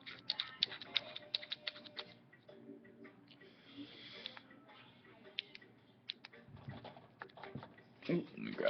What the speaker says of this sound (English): Screw that on like so.